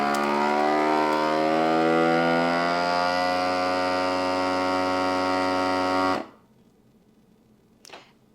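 A vacuum sealer seals a food bag in a loud, steady motor whine with a rich buzzing hum. It runs for about six seconds, then cuts off abruptly, and a faint click follows.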